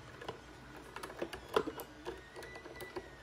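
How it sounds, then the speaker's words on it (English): Phillips head screws being taken out of the fork mount base of an ETX125 telescope, heard as faint scattered clicks, light metallic ticks and small handling knocks at close range, quiet overall with no speech. "And just remove these. They're usually Phillips head screws."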